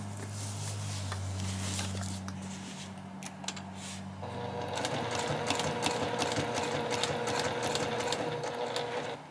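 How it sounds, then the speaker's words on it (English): A sewing machine runs steadily while stitching a bag, its rapid mechanical chatter growing louder and busier partway through, close and continuous with no talking. "I guess I can just go back and do another line of stitching in here"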